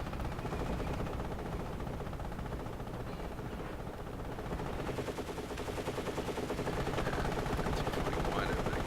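Dense, continuous machine-gun fire from MG carriers trading shots in a Storm in the West '44 wargame match, rattling bursts overlapping with battle rumble throughout, while a commentator talks over it.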